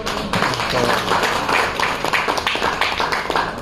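An audience at an education event claps for a mentor, a dense burst of hand claps that continues steadily and close for several seconds.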